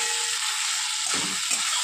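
Potatoes fry in a pan with spices and ginger-garlic paste for a fish roe and potato curry. A steady close sizzle runs throughout, with a few soft scraping stirs near the end and no talking.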